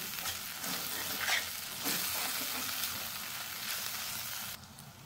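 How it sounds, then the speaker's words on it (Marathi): Gram flour, onion and tomato are stirred and roasted over a low flame for a soya and pea curry. A close, steady sizzle mixes with the scraping of a stirring spoon, dropping quieter just before the end. "थोडंसं अर्धा मिनिटभर हे लो फ्लेमवर आपल्याला मिक्स करून घ्यायचं, म्हणजे आपोआप बेसन कच्चेपणा बेसनाचा निघून जाईल"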